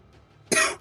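A single hard cough, close and loud, sounding as one short harsh burst after a quiet moment.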